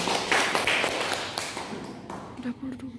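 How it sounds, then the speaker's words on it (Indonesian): A primary-school class claps together after a science lesson on rotation and revolution of the earth and moon, a brief burst of applause under a busy room with voices. "mari kita tepukkan untuk materi"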